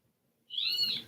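A bird hollers outdoors with one loud, sustained, shrill call that starts abruptly halfway through and holds until the end, following near silence.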